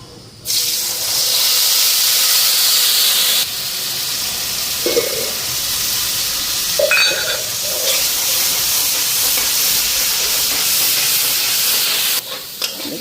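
Dry red chillies and black cumin hitting hot oil, a loud steady sizzling hiss that starts abruptly and continues throughout, with small spatters and a stir or two near the end.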